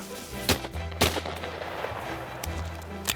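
Several sharp Winchester shotgun blasts during a quail hunt with English cockers, three or four loud close reports spaced irregularly over a few seconds, with a low rumble of wind or movement between them.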